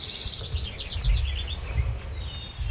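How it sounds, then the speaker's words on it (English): Spring birds call in rural Iowa, a series of quick high chirps and trills plus a few thin whistles at moderate distance over low wind rumble and outdoor ambience, with no talking. "how many different bird sounds there are when you get back in the Midwest"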